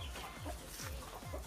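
Chickens on an organic farm cluck in a quick, uneven series of short calls. The birds sound faint and slightly distant over a soft background hum.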